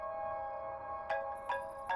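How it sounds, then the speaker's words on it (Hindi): An incoming call sets a phone ringing, a faint electronic melody of a few chiming notes rising over a soft background hum, each tone short and bright. "अरे बाप रे, सुलोचना का फोन आ रहा है।"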